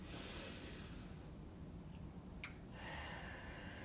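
Slow, quiet inhaled breath during an acupressure breathing exercise, a soft airy hiss held steady for several seconds with a brief sharper sniff partway through, close and alone.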